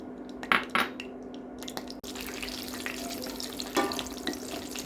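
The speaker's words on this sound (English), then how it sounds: "Fry our mixed nuts until it turns to golden brown." Mixed nuts frying in hot oil in a pan, a continuous crackling sizzle with a few stirring clinks and scrapes near the start, close and moderately quiet.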